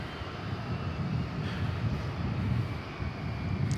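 An American Airlines jet at DFW Airport in Dallas at night gives a steady, broad engine roar at moderate distance, a low continuous rumble with faint wind noise and no talking.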